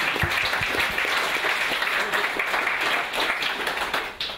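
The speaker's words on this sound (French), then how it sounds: "Si vous pouvez applaudir pour lui donner un peu de force." An audience at a tech conference talk on Kotlin Multiplatform applauds to encourage the speaker, a steady sustained wash of clapping that thins out and fades near the end.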